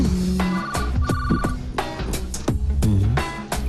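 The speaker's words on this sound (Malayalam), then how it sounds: "phone anti phone" A telephone rings in a comedy film scene, its ringing repeating steadily and loud through the whole stretch with no talk over it.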